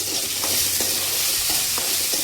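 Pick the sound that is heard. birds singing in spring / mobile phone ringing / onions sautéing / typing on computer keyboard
onions sautéing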